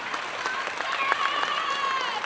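An audience at a Young Africans club meeting applauds committee members, a dense wash of many hands clapping together under a speaker's amplified voice, which carries on over the clapping.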